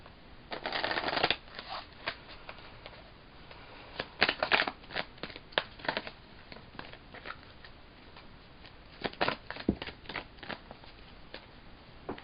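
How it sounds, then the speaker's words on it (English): Angel oracle cards are shuffled by hand in repeated bursts of crisp riffling and slapping, close and fairly loud, with short pauses between runs. "So I'm going to go ahead and start kind of shuffling."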